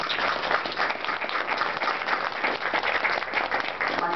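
People at a book launch for a dictionary of Mexican writers break into applause, a continuous, evenly dense wash of clapping from a sizable crowd, heard close and steady for the whole stretch.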